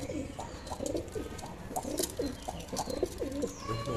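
A pair of pigeons kept in a loft setup coo close by in a rhythmic series of soft, low, rolling calls, repeated steadily with no talking.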